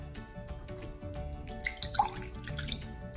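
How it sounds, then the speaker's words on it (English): Water is poured into a cup while making oobleck, with soft trickling and a few bright plinking drips and bubbles close by in a quiet room. "We're just gonna add the water, so we'll just take it like this"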